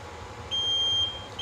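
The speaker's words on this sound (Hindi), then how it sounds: "ये बज़र आ गया मतलब कि हीटिंग ख़त्म हो गया" Electronic buzzer on a BGA rework station (R6860 with optical alignment) signalling the end of heating: a thin high beep of about half a second, then a second short beep begins, over a low steady hum.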